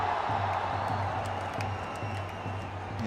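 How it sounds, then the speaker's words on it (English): Applause from the crowd around a cricket stadium in Mirpur, a steady distant roar of clapping and cheering that holds evenly throughout. "Applause all around the stadium for Mushfiqur Rahim"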